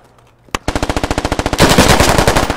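Automatic gunfire in the shooter game Squad rings out as a loud, close burst of rapid shots with sharp even rhythm, then gives way to a dense roar of continued firing.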